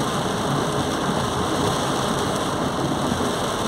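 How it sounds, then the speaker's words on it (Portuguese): Dense, steady roar of heavy rain pouring down at night in Lapão, Bahia, constant and enveloping with no breaks. "Chegou agora a chuva em toda a região."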